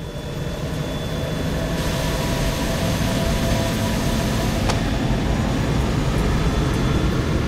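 A jet engine runs at high speed during a test, giving a steady loud roar that fills the whole clip with no pauses and no talk.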